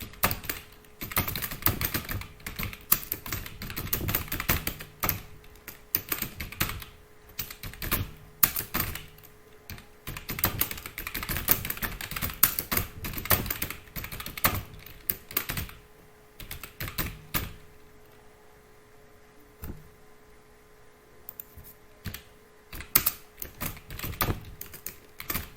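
Someone types an employee's name into an Excel payslip on a computer keyboard, rapid bursts of close key clicks with brief pauses, then a quieter stretch near the end; no speech.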